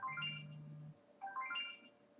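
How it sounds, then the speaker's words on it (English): An HTC phone, after a major software update, rings with a short electronic melodic phrase played twice with a pause between, fairly quiet and alone. "now no matter what I choose as my phone ring, this happens"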